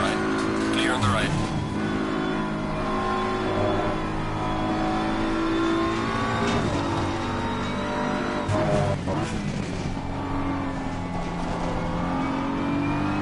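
Race car engines drone steadily at high revs in a racing video game at Kyalami, with a rival car running alongside, pitch shifts and brief sweeping whooshes as gears change, while a voice speaks over the engine noise.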